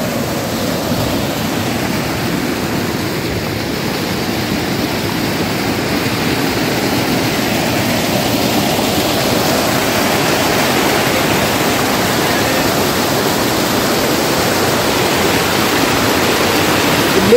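Mountain waterfall on the Shrikhand Mahadev trail pours in a continuous heavy roar, loud and near, a thick unbroken wash of falling water throughout with no voices.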